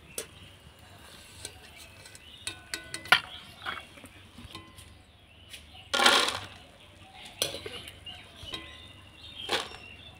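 Besan boondi being lifted from hot oil for motichoor laddu, with scattered clinks and scrapes of a slotted spoon against the pan over faint sizzling, and one brief louder burst of frying.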